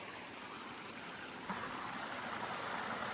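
A creek flows somewhere below in rugged country, a steady, quiet rush of running water heard alone with no voices.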